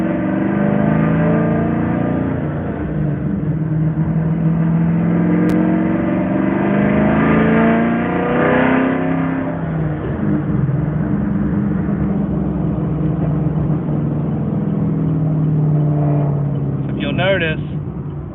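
A car engine with a cylinder 5 problem revs up and drops back, droning continuously and loudly close by, with a brief higher whine near the end.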